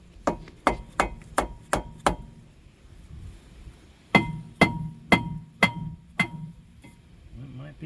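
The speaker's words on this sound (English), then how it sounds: "I'm going to go grab a dead blow or a rubber mallet and just smack the side of this." A dead blow or rubber mallet strikes a Ford wheel hub in two sets of six evenly spaced, solid thuds with a slight metallic ring. The blows are close and clear, with a short pause between the sets.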